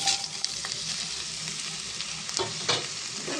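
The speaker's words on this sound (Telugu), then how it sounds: "కొంచెం ఫ్రై అయ్యేదాకా కలుపుకుందాం మనం" Okra pieces fried with onion and cumin in a little oil, stirred in a pan with a continuous sizzle broken by occasional scraping clicks of the spoon, close up and without any talking.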